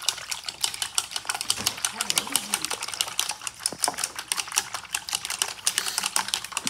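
Whisking ingredients together in a bowl: a rapid, steady run of light ticking and clattering strokes, close by and continuous throughout, with no talk.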